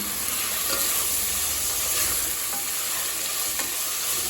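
Onion and tomato saute in a pan for coconut milk rice, giving a loud, continuous close sizzle with faint scraping stirs running through it, and no voices.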